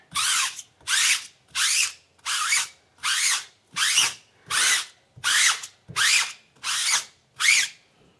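A drill-powered brush scrubs a tire in short repeated bursts, about eleven loud whirring pulses in an even rhythm with brief pauses between, close up.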